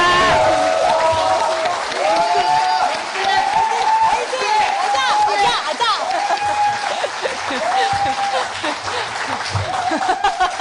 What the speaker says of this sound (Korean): 큰 박수 보내드리면서 마무리하도록 하겠습니다